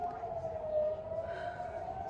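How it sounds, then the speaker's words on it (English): A steady, wailing warning siren in Israel during a wartime attack holds a long tone in the distance, continuous and moderately loud with faint background noise. "if you guys can hear. These are sirens."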